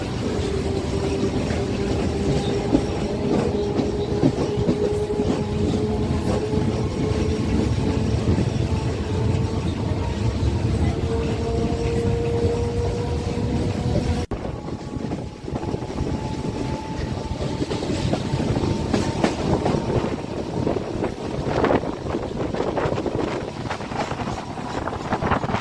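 A Dankuni local train runs on the rails from Sealdah toward Dankuni, a steady loud rumble with wind buffeting and a long rising whine of traction motors, briefly interrupted, then rolling clatter continuing, no voices.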